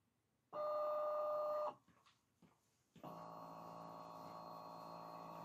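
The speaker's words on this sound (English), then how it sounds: "I'm simply going to send to cutter, going to click yes, and Juliet is going to get started" A Siser Juliet vinyl cutting machine starting a kiss cut: a close electronic whirr and tone, a brief pause with soft clicks, then a steady mechanical hum as the cutting carriage begins moving.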